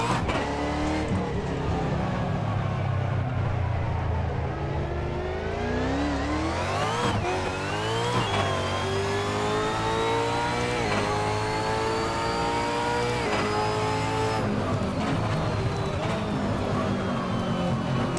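A Holden Commodore V8 Supercar in the Assetto Corsa racing game roars through a lap, its engine note rising and falling through gear changes, loud and steady throughout.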